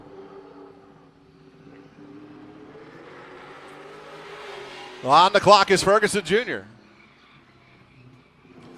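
A race car on track at Madera Speedway during qualifying, car number 43, builds as a distant engine roar before an announcer's voice speaks over it.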